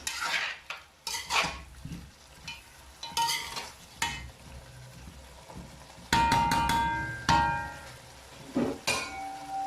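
A spoon stirs chicken, shrimp and vegetables in a pot, scraping and clanking against the metal in irregular bursts, with a soft sizzle between the knocks.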